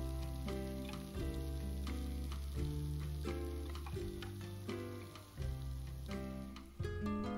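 KFC Green Hot Chicken reheating in a pan, giving a soft, low sizzle with faint crackles and scattered small pops under a steady background hum, no talking.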